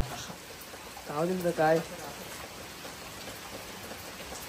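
Steady morning rain falling on the road to Matheran, a continuous soft hiss that fills the whole clip, with a brief spoken word rising above it midway.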